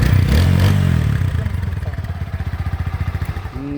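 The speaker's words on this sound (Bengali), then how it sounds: "ইঞ্জিনের সাউন্ডটা দেখুন একদম" A close motorcycle engine with about 17,000 km on it idles loudly, settling into a fast, even thumping pulse after an initial rev, with no talking over it.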